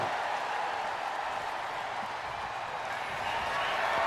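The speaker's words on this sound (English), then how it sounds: "this crowd is going berserk" A wrestling arena crowd in the video game WWE 2K25 roars as a steady, dense wash of cheering, distant and diffuse, with no single voice standing out.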